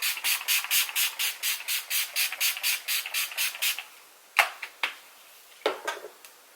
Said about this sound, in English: I'm going to set it with the Urban Decay De-Slick Makeup Setting Spray.